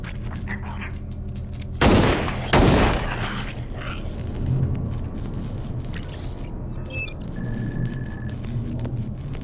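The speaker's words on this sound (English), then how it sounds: "I'm gonna shoot." Bursts of gunfire from an indie video game, two loud sharp blasts close together near the start, then a low rumbling mix of fainter shots and game effects continuing to the end.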